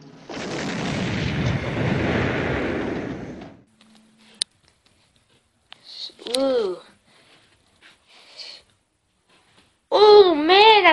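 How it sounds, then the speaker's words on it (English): A bomb explodes in a video game with a loud, sustained roar lasting several seconds, followed by a quiet gap with brief faint sounds, then a voice talks excitedly. "It's gonna explode in any second now!"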